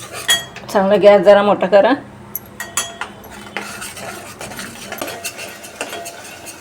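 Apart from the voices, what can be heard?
stirring and sautéing katachi aamti with jaggery in a pot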